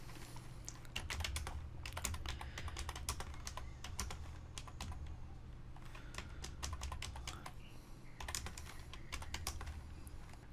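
Rapid, uneven keystrokes clatter on a computer keyboard while entering date, time and party size into a web form, with a steady low hum beneath the clicks and no talking.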